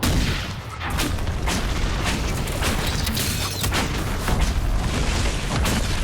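Fire spell explosions in Dragon Age Inquisition crackle and boom over continuous loud battle noise, with sharp bursts repeating across the scene.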